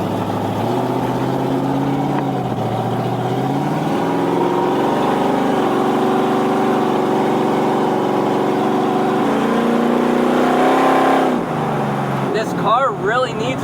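A 1968 Camaro pro street car, its engine running loud and steady with a deep rumble, the tone rising as it accelerates and breaking up near the end; someone speaks over it.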